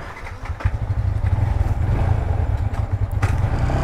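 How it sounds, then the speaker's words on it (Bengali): A motorcycle engine runs close by with a loud, steady throbbing rumble and rattling, holding at a constant rev; its exhaust sound has been altered to run louder. "বাইকটা সাউন্ড চেঞ্জ করে ফেলাইছে"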